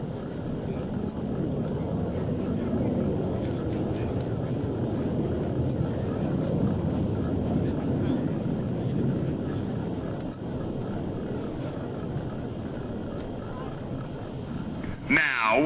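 US Navy Blue Angels jets at an airshow, a loud, sustained roar of engines that swells and fades as they fly past, mixed with wind buffeting the microphone.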